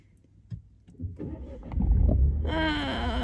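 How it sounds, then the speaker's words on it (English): A car engine cranks and catches during a nervous learner driver's lesson, with low rumbling building up and then a steady idle with tonal whine, fairly close and loud. "So start the car."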